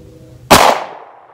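One close, sharp pistol shot firing an AAC 9mm full-metal-jacket round over a chronograph, a sudden loud crack with a short ringing decay and no voices.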